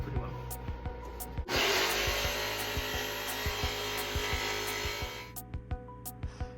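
A jigsaw cuts through plywood for a cabin wall panel, a loud steady buzzing saw run lasting several seconds, framed by ticking motor sounds before and after the cut.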